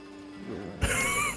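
A horse in Red Dead Redemption 2 gives a short, loud whinny that bursts in abruptly after a quieter stretch of low background noise, with no talk.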